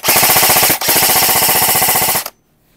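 An E&C SIG MCX Virtus airsoft gun firing full auto: two loud, rapid mechanical bursts of evenly spaced shots, a brief pause between them, then an abrupt stop and near silence.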